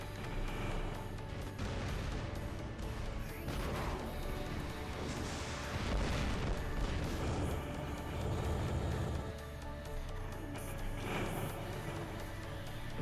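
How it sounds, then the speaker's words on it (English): Rockets fire and explode in the War Robots game, a dense, loud barrage of blasts and rumbling impacts over a constant mechanical drone, swelling midway and then easing slightly, with no speech. "Rockets!"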